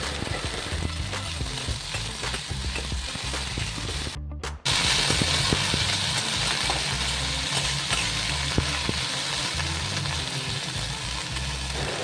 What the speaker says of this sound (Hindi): इधर मेरी भिंडी फ्राई होने के लिए मैंने चढ़ा दी है।